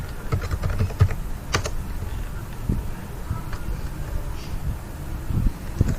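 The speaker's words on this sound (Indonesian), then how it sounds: "Oke, saya ketikkan di sini misalnya" A computer keyboard typed on continuously, with quick, busy clicking keystrokes against a steady background hiss, close and moderately loud with no talking over it.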